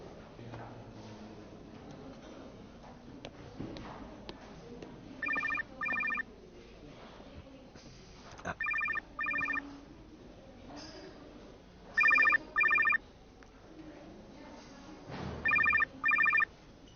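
A telephone rings in a quiet room, its electronic bell sounding in four short double bursts spaced a few seconds apart, fairly clear against faint background noise and rustling.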